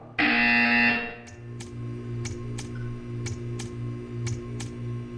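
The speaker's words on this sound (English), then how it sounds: "You will hear a buzzer." Buzzer from the Portal 2 video game: a loud electronic tone for about a second, then a series of sharp regular ticks repeating roughly every half second over a low steady hum.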